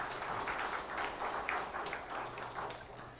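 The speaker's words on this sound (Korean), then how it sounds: "우리 이현우님 위해서도 감사의 박수하겠습니다" An audience claps in thanks for a violinist during a Hanyang University chapel service, a dense, steady wash of applause lasting a few seconds with no voices over it.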